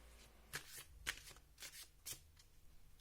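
Oracle cards being shuffled by hand, four quick riffling bursts about half a second apart, soft and close, followed by lighter handling noise, with no speech.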